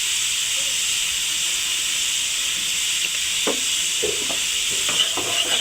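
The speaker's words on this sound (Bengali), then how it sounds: "এখন দিয়ে দিব আদা রসুন পেস্ট" Ginger garlic paste spat into hot oil while cooking chickpeas, giving a loud, steady hiss close by, with a few light knocks and scrapes of a spoon toward the end and no voices.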